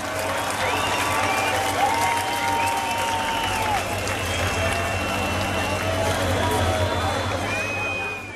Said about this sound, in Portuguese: Cadê aquelas palmas, caralho?